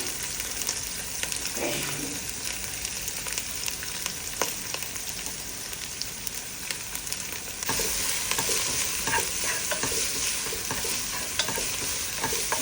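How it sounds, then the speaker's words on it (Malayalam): Chopped onions sautéing in ghee until brown, a steady close sizzle with stirring clinks and scrapes over the pan, no talking. "ഉള്ളി ബ്രൗൺ ആവുന്നവരെ അത് സോട്ട് ചെയ്യുക"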